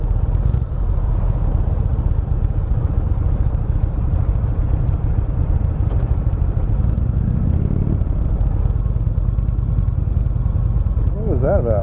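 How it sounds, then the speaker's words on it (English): A 2018 Indian Chief Vintage motorcycle with stock exhaust idles and revs with a steady low rumble throughout, close and fairly loud, with a brief rising rev near the end. "Stock exhaust sounds pretty decent."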